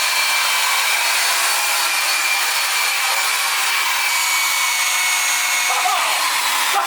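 Wire wheel on a power tool spinning in a car workshop, giving a loud, steady, broadband whirring hiss that holds unbroken and close throughout, with no talking over it.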